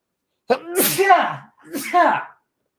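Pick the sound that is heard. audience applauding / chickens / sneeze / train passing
sneeze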